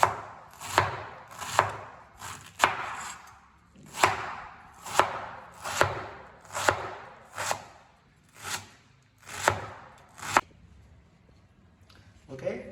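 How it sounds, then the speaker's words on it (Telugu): Cabbage sliced thin with a knife on a board, a dozen evenly spaced crisp chops close by, followed by a quiet stretch. "ఇట్లా సన్నగా తరుక్కోవాలి"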